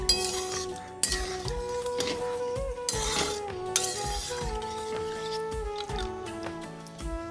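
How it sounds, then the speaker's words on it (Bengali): A metal lid clatters onto a pot of cooking daliya upma, with a few sharp clinks and knocks of cookware over quiet background music. "আবার একে ঢাকা দিয়ে দেবো।"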